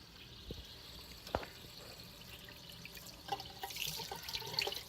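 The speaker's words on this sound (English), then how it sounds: "So I just run them under cold water." Crystals and rocks rinsed under a cold running tap, with a steady low wash of water, a few knocks and clinks, and splashier, brighter trickling toward the end.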